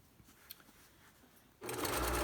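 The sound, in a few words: sewing machine stitching fabric for a face mask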